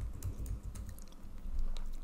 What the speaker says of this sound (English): I'll start typing the word dragons